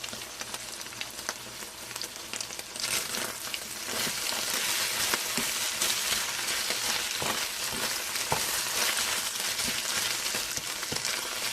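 Egg fried rice sizzles and crackles in a pan, being stirred with bursts of scraping through a continuous loud frying hiss, with no voices.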